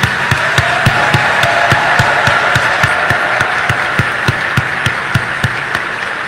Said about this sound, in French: qu'il est juste et beau de vous exprimer notre gratitude par ce tonnerre d'applaudissements.